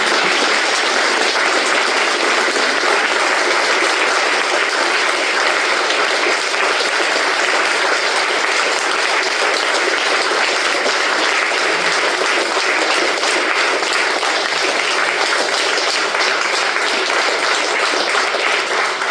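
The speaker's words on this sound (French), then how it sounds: "Ce que je vous propose avant de vous asseoir, c'est qu'on applaudisse ces camarades." Union assembly audience applauding fellow comrades at a general committee meeting, dense continuous clapping from a large crowd, loud and even throughout with no pause.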